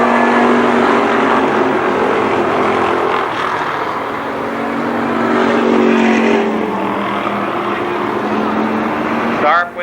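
Legends cars race at Columbus Motor Speedway, with a loud, sustained engine drone and shifting pitch as the pack runs, while an announcer talks over the roar.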